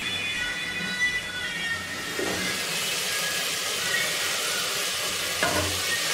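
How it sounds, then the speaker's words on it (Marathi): Onion paste frying in oil over low heat, a steady close hiss and sizzle throughout with a couple of faint stirring knocks, no talk. "कमी गॅसवरती आपल्याला ही कांद्याची पेस्ट परतवून घ्यायची आहे तेल सुटेपर्यंत"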